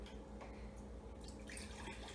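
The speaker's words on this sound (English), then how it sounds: "So I'm going to begin with about a cup of water here." Water is poured from a cup measure for a homemade aromatherapy spray, a faint, steady splashing trickle heard close up with no talking.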